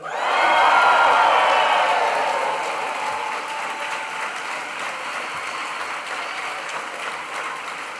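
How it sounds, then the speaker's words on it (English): A graduation ceremony audience cheers and applauds the graduating class of 2025, a loud burst of clapping and shouting that peaks early, then settles into steady sustained applause. "we'll give a big cheer for the graduating class of 2025"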